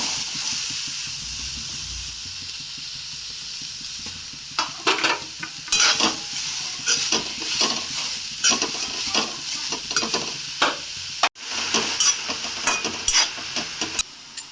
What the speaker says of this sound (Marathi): आता यामध्ये आपल्याला गवारी टाकायची भाजायला।